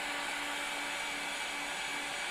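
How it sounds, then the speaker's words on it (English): A heat gun blows hot air across spray-painted paper in a steady, continuous whoosh, close and unbroken, with no talking. "Always keep the heat gun moving."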